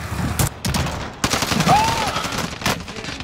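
Gunfire in Call of Duty Warzone, with rapid bursts of shots and sharp cracks in quick succession over a busy game soundscape, including a brief whistling tone.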